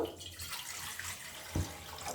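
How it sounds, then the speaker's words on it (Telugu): Water pours briefly into a small bowl for soya chunks, a soft splashing trickle with a short louder gush near the end. "చిన్న గిన్నె పెట్టుకొని ఇందులో వాటర్ పోసుకుందాం"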